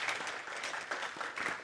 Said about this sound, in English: Big round of applause from me.